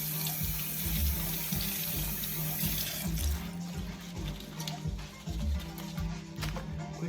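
Two bunches of onions are rinsed under a running kitchen tap, a steady close splashing stream with shifting gurgles as the water hits them, no talk over it.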